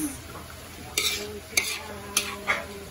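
Food being stirred in a large wok (kawali): a close, steady sizzle broken by four sharp metal scrapes and clanks of the spatula against the pan, with no talk.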